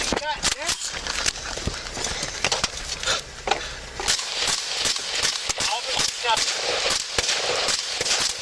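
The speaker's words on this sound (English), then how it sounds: "Shots fired, shots fired, shots fired, shots fired." Rapid gunshots during a police bodycam incident in Houston, sharp cracks scattered through the clip amid shouting and radio chatter, with voices talking urgently throughout.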